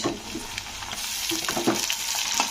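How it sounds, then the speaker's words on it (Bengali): Ginger-garlic paste sizzles steadily as it fries in a pan with onions and fenugreek, a dense continuous crackle with a few sharper pops, close and fairly loud. "এরপরে আমি দিয়ে দেবো আদা রসুনের পেস্ট দু চামচ"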